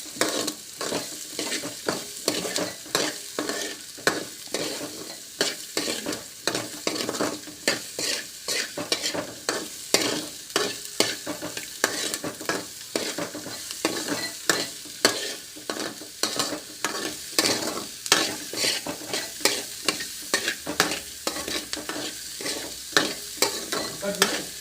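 Paneer for a palak paneer curry fries in a pan until brown, with steady sizzling and frequent stirring scrapes in an irregular rhythm, close and moderately loud, no talking.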